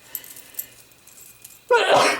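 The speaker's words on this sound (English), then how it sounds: "I'm going to sneeze if..." A single sharp, close sneeze bursts out at the end after a quiet stretch with faint light rattles.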